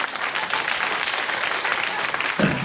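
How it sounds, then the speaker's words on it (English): A late-night television studio audience claps in a dense, even roar of many hands that holds steady throughout, with a low thump just before the end. "you quite spontaneously gave me a phony round of applause"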